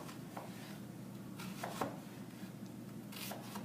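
A knife chopping through a large onion on a cutting board, giving a few soft, scattered cuts with quiet gaps between them, set against a steady low kitchen hum.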